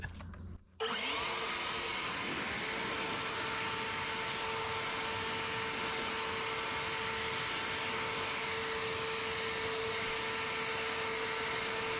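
An Ego LB6504 56V cordless leaf blower runs in turbo mode, starting after a brief pause and then holding a loud, steady, high-pitched whine with an airy roar close by, without talk.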